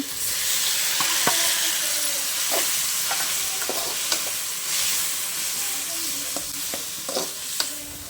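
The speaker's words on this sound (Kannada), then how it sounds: "ಇವಾಗ ಟೊಮೊಟೊ ಹಾಕೋತೀನಿ" Chopped tomatoes sizzle loudly in a hot pan for okra sambar in a village kitchen, with a steady frying hiss broken by repeated scraping clinks of a stirring spoon against the pan.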